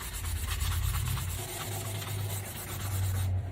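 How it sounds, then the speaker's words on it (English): A fan blade is rubbed with a 320 grit sanding block in steady back-and-forth strokes, a continuous close scratchy rasp over a low background hum. "This is a 320 grit sanding block, and I'm going to sand it one way,"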